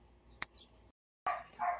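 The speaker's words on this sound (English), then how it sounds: "apparently all this teleporting around makes the dogs bark in the neighborhood" Neighborhood dogs bark in a few short, sharp yaps outdoors, with a brief quiet gap between the barks.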